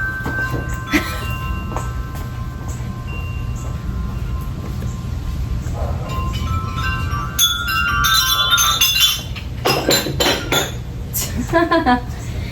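Clinking, bell-like metallic tones ring out repeatedly over a steady low hum, growing busier toward the end, with a voice speaking faintly underneath.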